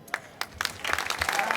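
Audience applause in a town square at an evening event in Piazza Manzoni, Jesolo, starting with scattered claps and quickly swelling into steady, fairly close clapping from a crowd.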